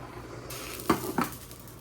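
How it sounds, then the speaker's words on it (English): Rice coming to a boil in a pot on the stove makes a soft, steady hiss, broken by two brief metallic clanks of the pot, with no talk. "Alrighty, our rice is coming to a boil now."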